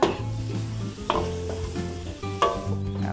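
Garlic and onion sauté in a pan, with a steady close sizzle of frying under a few sharp clinks and scrapes of a utensil stirring, for Filipino home-style cooking.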